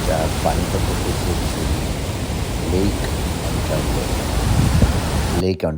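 On the American side of Niagara Falls, the cascade pours down toward Lake Ontario in an unbroken, close, rushing roar like surf. A voice talks faintly over it, and the sound cuts off abruptly just before the end.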